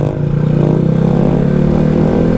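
Honda Grom motorcycle engine holding a steady, loud mid-pitched drone while balancing on its back wheel in a wheelie, revs fairly constant and close, no voices.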